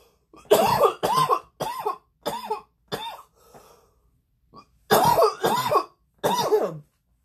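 A series of harsh, hacking coughs comes in two bursts separated by a short pause, loud and close, with about eight coughs in all.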